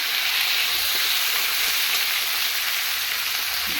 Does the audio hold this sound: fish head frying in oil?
yes